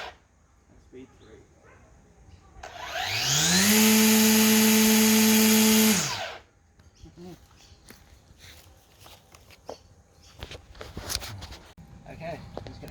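A Makita electric multi tool runs at its top speed setting for about three seconds, a loud, steady high-pitched whine that starts up and cuts off abruptly, with quieter handling clatter and small knocks before and after.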